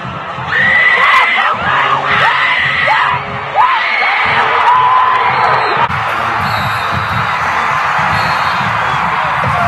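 A high-school football crowd on a Friday night chants and cheers in rising, rhythmic bursts of massed voices, loud and close, with a steady roar of crowd noise continuing underneath.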